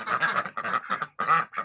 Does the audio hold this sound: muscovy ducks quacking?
yes